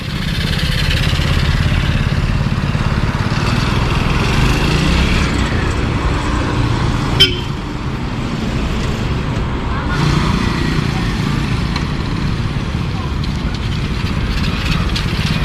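A repaired motorcycle engine runs steadily during a short test ride, a continuous rumbling drone mixed with road and wind noise, with voices talking over it at times.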